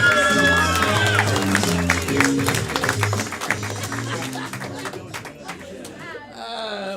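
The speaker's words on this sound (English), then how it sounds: "give them another round of applause" A live event audience applauds and cheers, a dense sustained wash of clapping mixed with crowd noise and music, loud and continuous, fading slightly toward the end.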